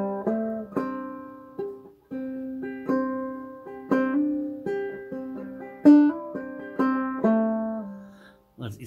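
Clawhammer banjo plays "Down to the River to Pray" in triple-thumb style, a clear solo run of bright plucked notes and rhythmic brush strums in a steady bouncing pattern, close and unaccompanied, ending with a brief rustle.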